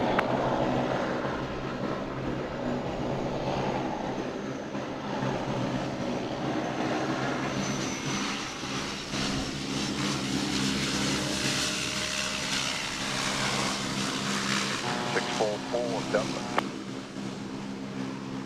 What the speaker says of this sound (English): There we had a very graceful landing of Winnie Flight 644.